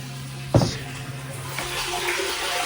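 Water from a hose pours steadily into a pressure washing tank, a close, constant rushing flow with a sharp splash near the start and no talking.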